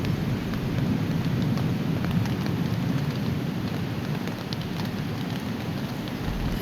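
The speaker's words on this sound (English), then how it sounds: "just heard some thunder out there" Steady rain patters on a surface, likely a tent, with a low, continuous rumble of distant thunder rolling underneath in the Pecos Wilderness, no voices.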